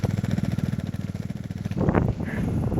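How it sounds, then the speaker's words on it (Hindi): A motorcycle engine thumps with a rough, tractor-like beat, fast even pulses close by for over a second before a louder, noisier burst takes over. "आवाज कैसी कर रहा, आवाज सुनो एक बार। ऐसे ट्रैक्टर की तरह आवाज कर रहा है।"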